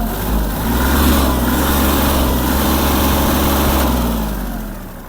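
A Kubota GL-280 three-cylinder diesel mini tractor running loud and near, its engine revving up to a steady throb that holds and then eases off toward the end, no voices.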